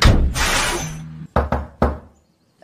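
A door in an animated film is slammed shut with a heavy thud, followed by a couple of sharp knocking impacts and then quiet.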